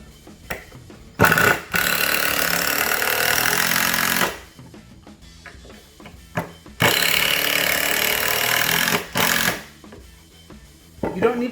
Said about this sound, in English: I'm going to set these 2 screws.